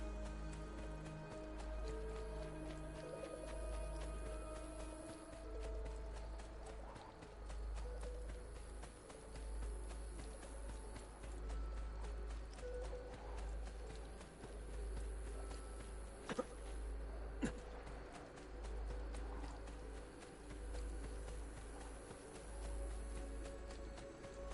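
Horse hooves in Assassin's Creed II clop steadily and faintly through a long stretch, sitting under sustained low droning music and game ambience, with a couple of sharper knocks near the middle.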